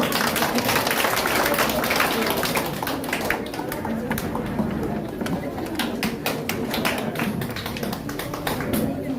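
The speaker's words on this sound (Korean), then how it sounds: "박수 좀 쳐주세요" At an election campaign office opening ceremony, an audience claps steadily and densely through the whole stretch, under a noisy, reverberant room with a voice speaking over it.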